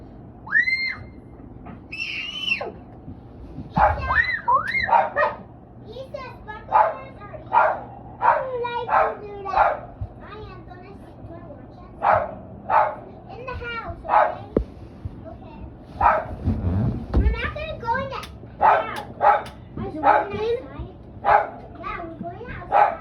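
Several dogs bark in short, repeated bursts outdoors on a snowy evening, close and fairly loud, mixed with children's voices and adults talking.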